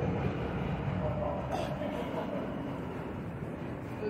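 A New York City J subway train rumbles along with a steady low roar of wheels and motor, constant and enveloping, as if heard from inside a moving car.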